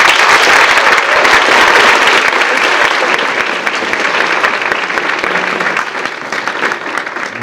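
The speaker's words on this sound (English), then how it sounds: "Let's keep that applause going for" A large school audience at a Writers Week gathering breaks into loud, dense, sustained applause that holds steady and tapers only slightly toward the end, with no talking over it.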